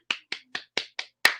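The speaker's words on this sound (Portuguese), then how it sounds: "recebam Dani Monteiro com a salva de palmas" Six sharp hand claps, evenly spaced and close, welcoming a guest to an online political live stream. They sound like one person clapping rather than a crowd.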